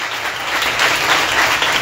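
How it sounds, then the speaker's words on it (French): A congregation applauds for Jesus at a night prayer and deliverance meeting in Ekpè, Benin, with sustained, dense clapping that is loud and close and has no talk over it. "Acclame pour Jésus"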